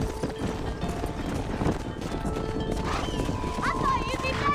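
Horse galloping in the western video game Red Dead Redemption, steady hoofbeats and clip-clop under a dense game soundscape, with a rider's voice talking over it throughout.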